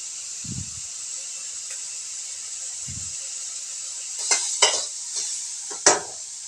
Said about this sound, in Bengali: সয়াবিনগুলো হালকাভাবে আমি ভেজে নেওয়ার চেষ্টা করব